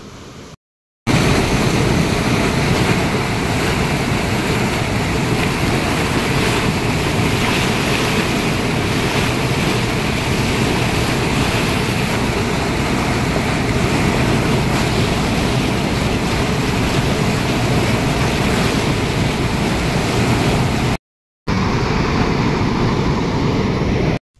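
Loud, continuous rush of water pouring out of six lift irrigation pipes with heavy force, a dense roaring wash that holds steady throughout, broken by brief cuts.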